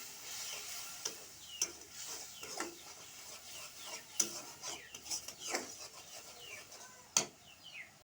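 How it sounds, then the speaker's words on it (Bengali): Turmeric and coriander powder being stirred and fried for a stinging catfish curry: soft repeated scraping and rubbing of a spatula against the pan with occasional sharper knocks over a faint sizzle, close and quiet, no talking. "এখন ভালোভাবে মশলাগুলো কষিয়ে নেব।"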